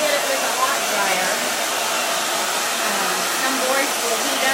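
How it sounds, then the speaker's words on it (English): A warm hair dryer blows steadily over chalk paste on a craft board, a loud, continuous broadband whoosh with no pauses. "get it with a warm dryer. I don't want to get it with a hot dryer."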